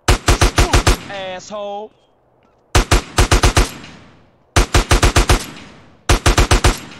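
Rapid bursts of automatic gunfire in GTA San Andreas, loud and close, coming in several separate volleys of four to six shots with short gaps between them, and a brief voice heard once between the bursts.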